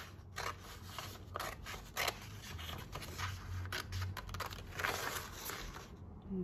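Scissors snip through paper while making a junk journal, a close, steady run of crisp cuts and crinkling rustles with no talking.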